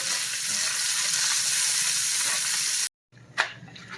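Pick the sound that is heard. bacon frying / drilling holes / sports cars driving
bacon frying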